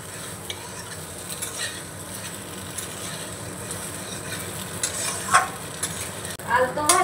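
White sesame seeds stirred into a sizzling mixture in a pan, soft scraping and frying hiss close by, with a few utensil clinks and louder stirring strokes near the end.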